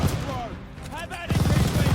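A tower machine gun fires in Call of Duty Vanguard, a loud, rapid burst of shots near the end following scattered gunfire and combat noise.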